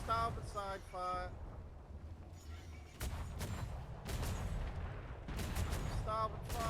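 Ship cannons fire broadside at a Spanish galleon in the pirate game Atlas, several sharp booming shots in clusters over wind and sea rumble, while a voice talks between the blasts.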